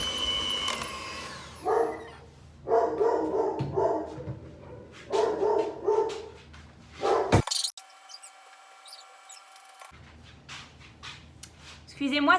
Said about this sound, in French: Excusez-moi, c'était mon chien.